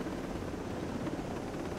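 Helicopter in the video game Ghost Recon Breakpoint, a steady rotor drone at moderate level holding throughout with no talk over it.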